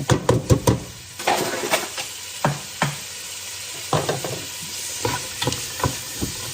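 Hard carrots frying in a pan, stirred with a utensil: irregular knocks and scrapes against the pan over a soft, steady sizzle, close and fairly quiet.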